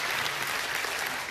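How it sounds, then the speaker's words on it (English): Audience applause at a church talk, a dense wash of clapping from many hands, steady and even throughout. "yeah, you can clap"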